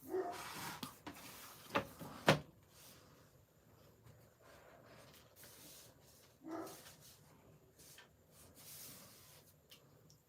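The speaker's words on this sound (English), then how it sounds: "Dogs are barking." Dogs bark indoors at home in a few sharp, separate bursts close by, with quiet gaps between them and a faint whimper.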